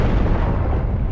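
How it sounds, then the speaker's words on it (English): An enemy mech blowing up in the MechWarrior video game, with the Jenner IIC in play: a loud, sustained, rumbling blast that fills the whole moment without easing, heavy in the low end. "Target destroyed."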